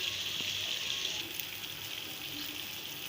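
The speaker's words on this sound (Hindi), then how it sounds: "1 गिलास पानी डाल दिया है।" A glass of water splashes into a pan of simmering chickpea and egg curry, a close continuous gushing pour with faint sizzle underneath, lasting a few seconds.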